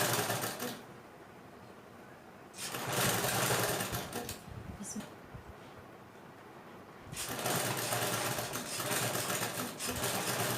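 A sewing machine stitches a simple blouse in bursts of rapid, whirring clatter close by, with pauses between runs where a voice speaks quietly.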